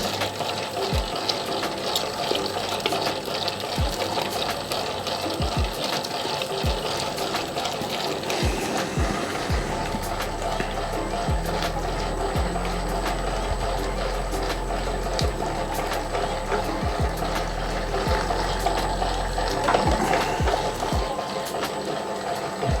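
An electric mixer kneads bread dough made from two flours while water is trickled in. Its motor whirs continuously with rhythmic clunking and ticking, steady and close for over twenty seconds, and no speech is heard.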